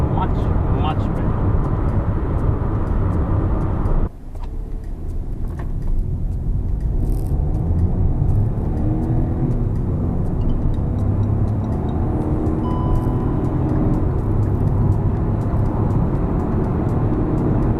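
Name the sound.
2020 Hyundai i20 car accelerating hard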